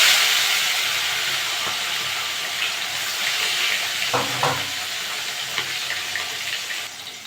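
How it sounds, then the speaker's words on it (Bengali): Parshe fish fry in hot mustard oil, a loud, steady sizzling hiss with bubbling crackle that stays close and continuous throughout, with no voices. "মাছগুলো ভেজে নেব"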